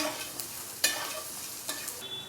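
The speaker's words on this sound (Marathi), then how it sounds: "आता आलं टाकून घेऊया आलं थोडंसं परतूया" Chopped ginger sautés in a pan for vermicelli upma, giving a quiet, steady sizzle with a few sharp scrapes and taps as it is stirred.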